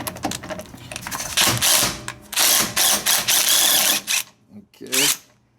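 Ratchet wrench removing the last bolt during Ford F150 4R70W transmission work, loud, close bursts of rapid clicking in several runs separated by short pauses, with a voice talking between them.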